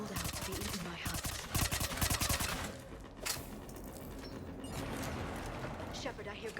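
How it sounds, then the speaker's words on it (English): Rapid bursts of automatic gunfire from a Mass Effect 3 firefight rattle in close, clustered volleys with brief gaps between them, mixed with mechanical clatter. "I hear gunfire"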